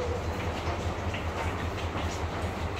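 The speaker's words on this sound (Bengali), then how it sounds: "এই রেল ট্রেনটা।" A train at Mymensingh railway station in Bangladesh, heard as a steady low rumble with a faint rhythmic pulse, like carriages idling or moving slowly nearby, with no voices over it.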